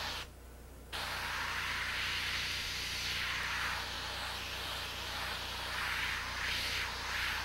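A steady, soft airbrush hiss sprays paint onto a portrait. It starts after a brief pause and then runs continuously and evenly, close by.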